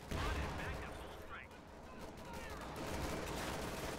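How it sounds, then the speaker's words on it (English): Game-battle gunfire from a Company of Heroes 2 machine gun bunker, a dense wash of shots and explosions rolling on throughout, with faint voices mixed underneath. "So that was, in fact, a machine gun bunker"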